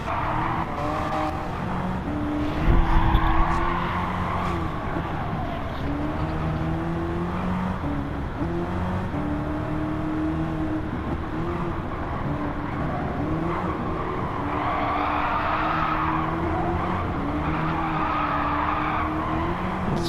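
Race cars from a club racing series, including 750-class cars, skidding and fighting for grip on track, with a steady engine drone and long wavering tire squeals rising and falling across the stretch, plus a brief louder thump early on.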